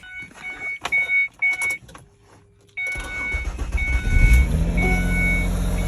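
An early 2000s Ford Escape fires up after a battery replacement. Several electronic chimes come first, then the engine catches with a sudden low roar and settles into a loud, steady rumbling idle.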